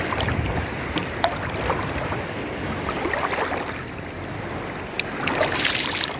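Sea water of the Black Sea at Odesa sloshes and splashes around a person wading in on a foggy day, a steady close wash with a few sharper splashes.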